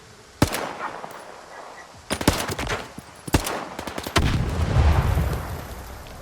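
Gunfire in S.T.A.L.K.E.R. 2: Heart of Chornobyl, sharp loud shots in a few separated bursts of rapid rounds, followed by a heavier rumbling blast and lingering low roar.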